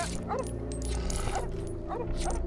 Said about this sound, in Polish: Oni tylko na siebie szczekają tam.